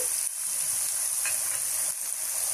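Onions frying in a pan for a Telugu-style mutton tomato curry, giving a steady close sizzle and hiss with faint stirring, no voices.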